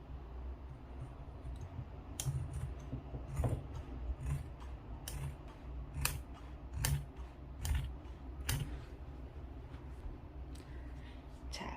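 Scissors cut through the hem of cotton trousers laid on a flat surface, giving a run of crisp, irregular close snips and clicks over a low room hum.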